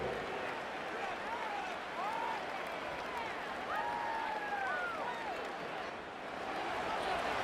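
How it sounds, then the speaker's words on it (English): A large stadium crowd at Wembley in Madden NFL 25 gives off a steady wash of distant cheering and applause, with a commentator talking over it and a few whistles rising above the crowd. "Big crowd on hand."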